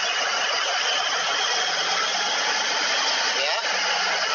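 Heavy equipment diesel engine held at a raised throttle around 1200 rpm with the foot brake applied, a loud steady droning roar throughout with a brief slight dip near the end.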